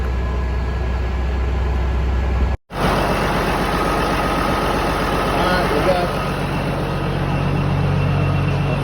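A truck engine idles steadily nearby to warm its oil before an oil change, a continuous low rumble with a brief dropout partway through and a person talking over it.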